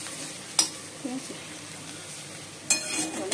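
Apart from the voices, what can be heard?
stirring frying bitter gourd, potato and onion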